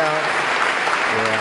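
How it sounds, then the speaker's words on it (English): Applause from a crowd of graduates at Princeton's 2012 commencement, a short burst of dense clapping with a voice carrying over it. "why don't you give yourselves a round of applause?"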